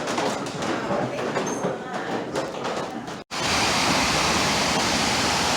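Water gushing out of a small dam that feeds a mill, a loud, broadband rushing roar close by that cuts briefly and then resumes even stronger and steadier.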